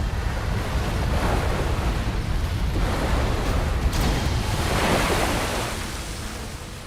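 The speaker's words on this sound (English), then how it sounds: "multiple waves batter the inside of the cavern" Waves surge and crash against the walls of an underground cavern on a raging subterranean river, a loud continuous roar of churning water and rushing air with swells that rise and fall, no voices.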